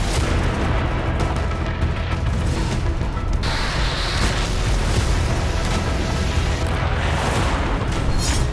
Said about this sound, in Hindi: हमले में टैंक में जोरदार धमाका हुआ।